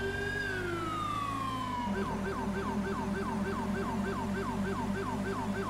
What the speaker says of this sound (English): I hope they heard the siren and stop.